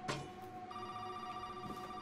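In the Resident Evil 7 horror game, a telephone rings continuously with a steady electronic bell tone over a dull background hum, after a brief thud at the start.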